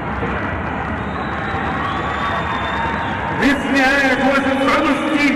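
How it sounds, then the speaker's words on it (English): A large arena crowd at a boxing Olympic qualifying semi-final roars steadily and then swells into louder cheering and whoops, with an announcer's voice over it. "the loudest cheer of the night goes for Mehdi"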